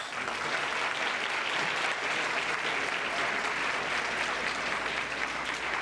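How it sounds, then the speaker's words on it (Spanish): Steady, dense applause from an audience, filling the whole stretch at an even level with no voices standing out. "Les pido por favor un aplauso para ellos."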